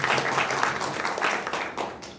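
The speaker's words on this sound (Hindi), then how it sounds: "सरिता मैम के लिए एक बार जोरदार तालियां" Applause from an audience at a company event welcoming the CEO, a steady dense patter of many hands clapping for about two seconds with no break.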